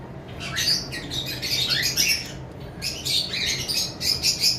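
Lutino pied cockatiels squawk and screech in repeated harsh bursts, loud and near, with short pauses between calls over a constant low background hum.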